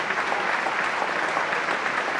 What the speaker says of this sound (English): As applause rings around the stadium for younger Jack Lloyd.